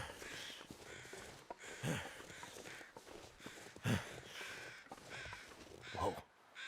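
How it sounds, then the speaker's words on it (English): Crows cawing in the snowy wilderness of the survival video game The Long Dark, several harsh caws spaced a couple of seconds apart over a quiet ambient background. "Some circling birds."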